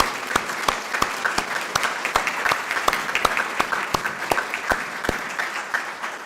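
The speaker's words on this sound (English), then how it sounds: "applause." An audience at an alumni network launch event applauds steadily, with dense, even clapping close by and sustained across the whole stretch, without talk.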